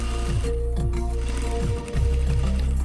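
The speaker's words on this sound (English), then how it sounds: "Just put them together and sew on the top." A sewing machine runs in quick rhythmic bursts of stitching as it sews the seam of a bedspread with Dacron batting, close and alone with a brief pause near the end.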